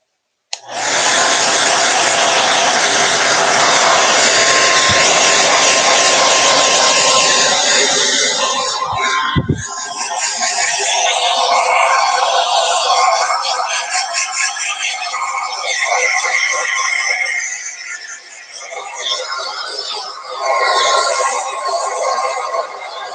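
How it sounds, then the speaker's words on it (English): A hair dryer blows loudly and continuously at close range, its rushing whoosh shifting in tone partway through before carrying on. "I always apologize about the hair dryer."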